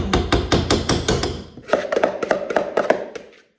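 Chestnut paste being beaten for jam gives a rapid series of loud, sharp rhythmic knocks, close and steady, with a brief pause midway and no speech.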